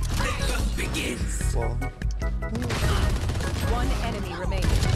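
Gunfire in a Valorant Spike Rush match, with shots fired through walls, crackles in dense bursts with sharp cracks and crashes over busy game noise, and players talk over it throughout.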